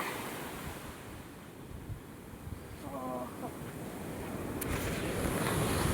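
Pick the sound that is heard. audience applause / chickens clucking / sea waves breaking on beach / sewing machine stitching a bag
sea waves breaking on beach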